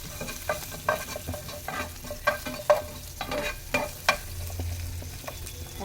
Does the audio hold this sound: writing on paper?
no